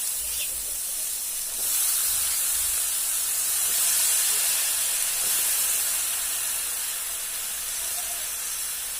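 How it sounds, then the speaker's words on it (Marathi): Chopped potatoes and eggplant land in a hot pan of spiced oil and sizzle loudly, a steady bright hiss that swells after a second and continues close up without talk. "आता मी बटाटे वांगे चिरलेले ते टाकून घेते त्याच्यामध्ये"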